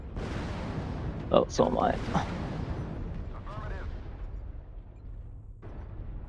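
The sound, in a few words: artillery fire in a video game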